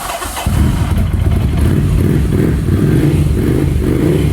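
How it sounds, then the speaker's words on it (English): A Ducati Scrambler 800 motorcycle engine cranks and catches, settling into a loud, close, rumbling idle. "Start the vehicle."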